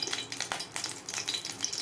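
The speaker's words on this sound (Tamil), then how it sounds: "சட்டியில் கொஞ்சம் தண்ணி இருந்திருக்கும் போல அது வெடிக்குது" Oil in a pan spits and crackles with tiny water droplets while heating for tempering, a continuous close, busy sizzle of rapid pops with no voices.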